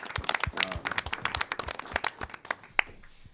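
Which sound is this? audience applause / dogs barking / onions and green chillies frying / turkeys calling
audience applause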